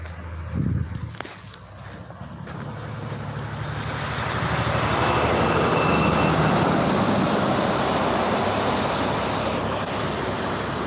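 Heavy road traffic passes on a wet, rainy road, with a truck rumbling by; broadband roar builds and holds loud and fairly close, with no talking.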